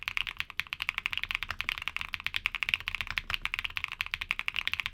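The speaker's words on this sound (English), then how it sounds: "these switches deliver a pretty thocky sound profile that's really satisfying" Rapid, steady typing on a mechanical keyboard with tactile switches, close up, with a dense run of muted, deep-toned, thocky key presses and no voices.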